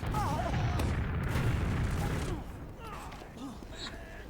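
Explosions and weapon fire in a Team Fortress 2 match: a loud boom with crackling bursts up front, then fainter blasts and game noise as a commentator's voice sits low underneath.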